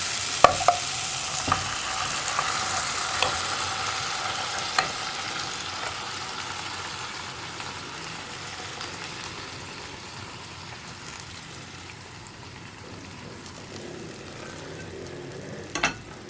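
Green gram curry sizzles steadily in a pan while a spoon stirs in cooked green gram, with a few sharp scrapes and clinks against the metal.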